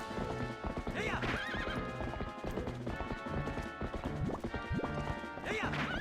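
Hooves clip-clop in quick galloping rhythm as a horse runs in Zelda: Twilight Princess, with whinnies, game music and thuds mixed in, and a voice talking faintly at times.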